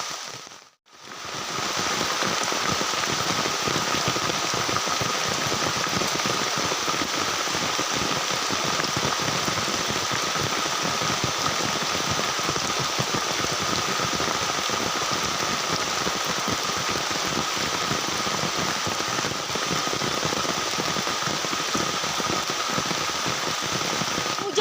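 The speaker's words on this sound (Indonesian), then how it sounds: "Hujan tuh makin lebat." Heavy tropical rain pours down steadily and densely for the whole stretch, a loud even hiss with no pauses while traps baited with roasted coconut are set outdoors.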